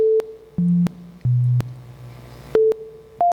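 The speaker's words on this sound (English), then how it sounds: "We all know what a sine wave looks like" Pure sine test tones from an oscilloscope waveform demo: a series of short, steady electronic beeps that step between low and mid pitches, each starting with a faint click, with quiet gaps between them and no voices.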